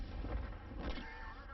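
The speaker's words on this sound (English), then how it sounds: "Oh, artillery." An artillery shell strikes in World of Tanks, giving a deep, rumbling double impact with low booms close together, fading into a short tail.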